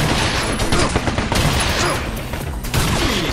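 Gunfire in the video game Binary Domain, a dense loud fusillade of rapid shots running throughout, with rattling bursts and booms close up.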